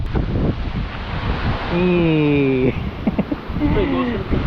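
Steady wind rush and lapping water on Taal Lake in the Philippines fill the background, with people talking loosely over it throughout.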